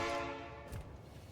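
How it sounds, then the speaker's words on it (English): A train horn blares loud and sustained in the factory-building game Factorio, then cuts off and gives way to rumbling rail noise. "Train noises."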